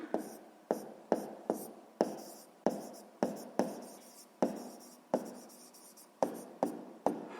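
A pen writes out a geometry answer about an isosceles triangle in a sixth-grade maths exercise, with quick scratchy strokes in short bursts and brief pauses, close and clear, no talk.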